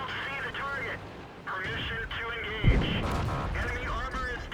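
A tank cannon shot in the video game World of Tanks lands as one sharp, heavy boom midway through, heard over a steady engine hum while someone commentates throughout.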